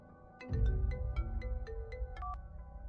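A phone ringtone plays a bright, repeating electronic melody of quick chiming notes over a low background rumble, steady and fairly clear.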